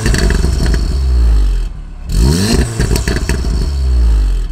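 A VW Golf R fitted with a 3-inch downpipe and the stock exhaust revs loudly several times, with a brief gap between the blips and a rattly, tinny edge to the engine note.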